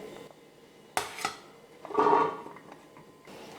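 Chopped carrots and beans tipped into a metal steamer, a couple of sharp clatters followed by a brief rattling scrape of vegetables against the pan, close and fairly quiet in between.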